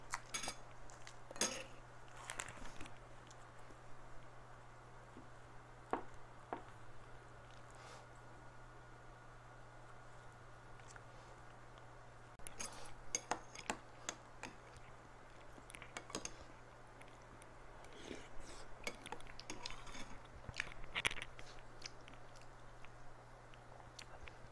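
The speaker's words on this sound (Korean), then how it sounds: "남은 국물에 공깃밥을 넣어서 먹어보도록 하겠습니다" Spoon and chopsticks clink against a bowl while rice soaked in leftover Samyang ramen broth is eaten, with scattered scraping taps and soft chewing close to the mic over a steady low hum, no talking.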